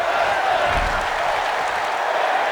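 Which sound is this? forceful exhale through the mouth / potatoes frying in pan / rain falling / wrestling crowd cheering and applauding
wrestling crowd cheering and applauding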